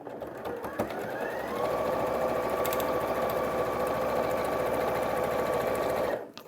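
A sewing machine stitches a straight seam on quilt fabric, a steady fast mechanical whir that starts after a few clicks, runs evenly for several seconds and then stops abruptly.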